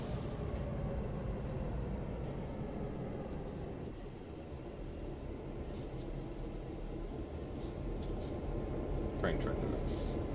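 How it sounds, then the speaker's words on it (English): A QSRX passenger train rolls down a 1.1% grade between Quakertown and Lansdale, a steady low rumble of wheels and running gear heard from onboard, with faint voices in the background. "Train trying to go zoom."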